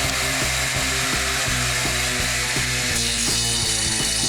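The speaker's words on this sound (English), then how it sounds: "line it up where we have it, turn on our saw" A power saw runs steadily while cutting a well-used wooden test stick for building cabinet doors, a loud continuous whine with rhythmic mechanical ticking throughout, and no talking.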